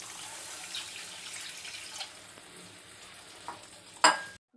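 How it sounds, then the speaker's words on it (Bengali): Spice masala for a rohu curry sizzles and fries in a pan, then a splash and a sharp hiss burst out as water is poured in near the end, close and fairly loud, with no speech. "এবার আমি একটু জল দেব।"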